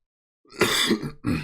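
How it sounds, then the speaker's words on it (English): A single harsh cough close up, a rough burst followed by a shorter second hack after a brief pause. "Got a lingering cough, man."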